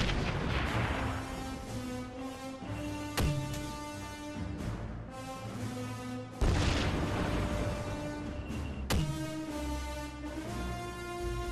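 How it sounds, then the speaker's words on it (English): Mortar fire and explosions in Call of Duty 3: a few sharp launch thumps and booming detonations land over a droning, tonal battlefield background, each blast standing out loudly against steady rumble. "Not the most accurate mortar that ever lived."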